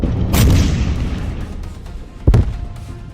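Leopard tank cannon firing in Ukraine war combat, two heavy booms about two seconds apart with a rumbling tail, the second sharper and louder, heard from a distance without speech.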